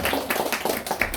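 A church congregation clapping together during a Sunday service, dense rhythmic applause from many hands in a fairly close room, with a voice faintly audible underneath.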